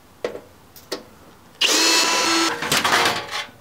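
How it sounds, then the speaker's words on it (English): Cordless drill working on a steel electrical breaker box being scrapped, with two short clicks before a loud whirring run that stutters and changes pitch as screws are backed out, close by. "Using the drill, because we ain't got all day."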